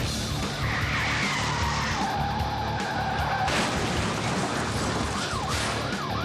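Car skidding and spinning out as a fleeing driver dodges a police officer during a chase, with a sustained loud roar of engine and screeching tires that sweeps in pitch, then a harsher burst of noise near the end.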